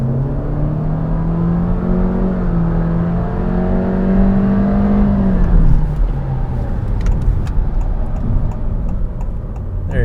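A 2022 Honda Civic with a 180 horsepower engine and CVT accelerates, its drone climbing smoothly and steadily for several seconds before dropping off into lower road and engine noise, heard from inside the car.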